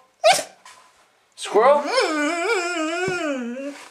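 A dog barks sharply once, then gives a long, loud, wavering whimpering whine close to the mic, with a person speaking briefly before it.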